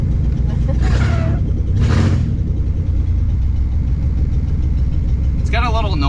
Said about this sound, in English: I don't know if it's the engine or if it's just the exhaust being open